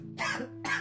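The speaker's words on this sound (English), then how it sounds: "Why am I coughing so much?" Two harsh coughs in quick succession, close to the mic, over a steady low hum.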